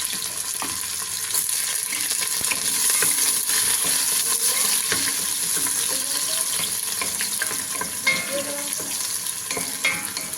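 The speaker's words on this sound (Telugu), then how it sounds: "చూడండి, ఇలా ఉల్లిపాయ వేగినాక" Onions frying and stirred in a pan for laham kabsa, a steady close sizzle with scraping spoon strokes and small clinks throughout, no talking.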